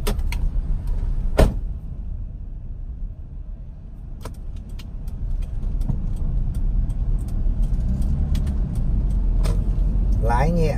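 A 2016 Kia Morning with a manual gearbox idles in a low, steady hum. Sharp clicks and a jangle of keys punctuate the sound, and someone talks over it throughout.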